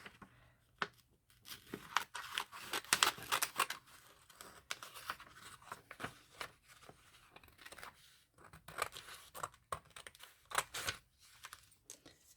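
Snipping and rustling of poor-quality scissors working through paper, in irregular bursts of crisp cuts and crinkles, close and fairly quiet.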